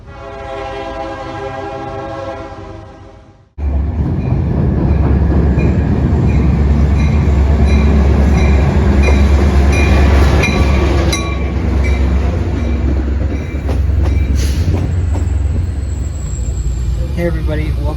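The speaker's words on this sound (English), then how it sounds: "I'm currently on a Metra Milwaukee District North" Riding aboard a Metra Milwaukee District North commuter train, a loud continuous rumble of wheels and car noise after a sudden start, with faint horn-like tones and squeals riding on top.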